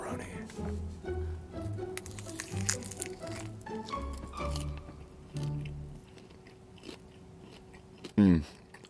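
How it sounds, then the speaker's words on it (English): Someone bites into and chews a pepperoni Wetzel's Pretzel, with crisp, baked-on cheese giving close, wet crunching and squishy chewing, scattered snaps and a brief louder burst near the end. "Let's give it a bite."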